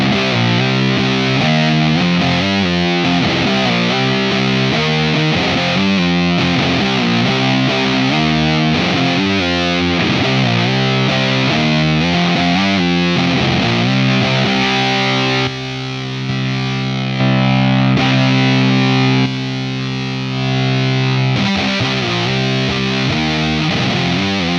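Electric guitar played through a Zander Circuitry distortion pedal with a blast function, loud and saturated, rhythmic chugging riffs then sustained held chords, no talking.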